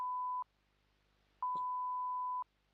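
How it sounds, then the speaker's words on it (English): Clean electronic beeps at one steady pitch: a short tone is cut off at the start, then after a pause a single longer tone lasts about a second, quiet and alone. "Beep, beep, beep"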